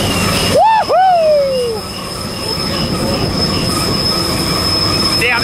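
A BNSF coal train climbs Cajon Pass, its wheels letting out loud, sharp squeals that rise and bend early on, then a continuous rumble and grinding of rolling cars heard up close.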